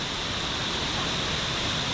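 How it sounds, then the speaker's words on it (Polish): Steady, broadband roar of a waterfall on Siquijor island, dense and continuous at close range with no talking. "wodospady, wodospady są piękne, robią wrażenie"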